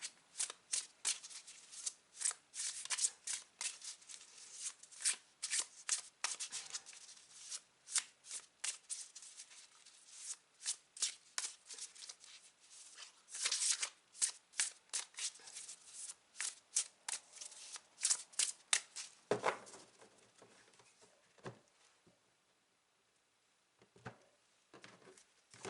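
Tarot cards being shuffled by hand, a quiet run of rapid papery riffles and soft flicks repeating for about twenty seconds, then a few scattered taps as it settles, with no talking.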